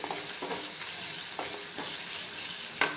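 Potatoes frying lightly in a pan for shahi aloo korma give a soft, steady sizzle with a few gentle stirring scrapes and one sharper knock near the end.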